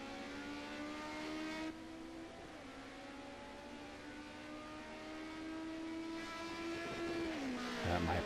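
BMW race cars lap the Hockenheim circuit during a club race, their engines droning in sustained tones that rise and fall through gear changes, with a brief downshift near the end.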